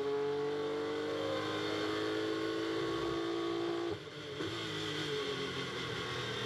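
GT race cars, including a BMW, lap Circuit Paul Ricard in qualifying, heard as a steady high engine drone with rising and shifting tones, as if from onboard, with a brief dip partway through and no talk.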